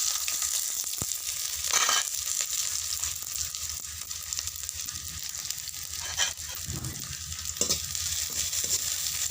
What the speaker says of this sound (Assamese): আজি অকল আলু ভাজি বনাবলৈ লৈছোঁ